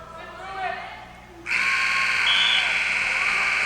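Loud, sustained electronic buzzer marks the end of a period in a varsity high school wrestling match, blaring steadily for over two seconds after brief crowd and commentator chatter.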